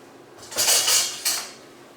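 A metal spoon scraping and clinking against a bowl of cabbage filling in two quick bursts, close and fairly loud.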